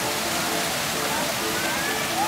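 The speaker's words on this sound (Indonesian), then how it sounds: "dialirkan ke bawah seperti air terjun." Warm sulphur hot-spring water at Curug Cipanas Nagrak pours down like a small waterfall into tiered soaking pools, a steady broadband rush filling the whole clip at close range.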